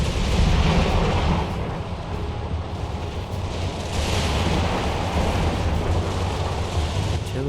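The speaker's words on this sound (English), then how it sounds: "Let my 24-pound heavy guns try and take them out." Booming volleys from 24-pound heavy artillery guns in the video game Empire: Total War, a dense, continuous rumble of distant cannon fire and explosions blending into a steady roar.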